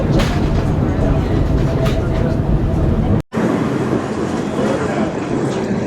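An old streetcar rolls through New Orleans' Garden District, giving a steady, loud rumble and rattle of the car with breezy wind noise, a brief cut partway, and a voice talking over the ride.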